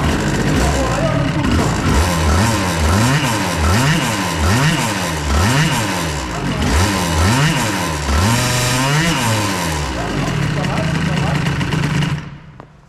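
A 70cc scooter engine with a 2Fast kit, idle set rich, runs loud and close, rising and falling in repeated revving surges over a steady idle, with a final rev fading out at the end.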